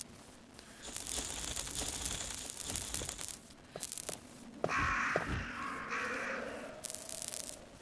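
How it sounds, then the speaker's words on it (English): Crows caw in the Resident Evil Director's Cut video game, a few harsh calls rising over a steady ambient game background with scattered rustling and crunching effects. "we're not going to bother with these crows"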